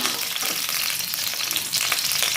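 Garlic fries in hot vegetable oil with a dense, continuous crackling sizzle, close and fairly loud, with no talk over it.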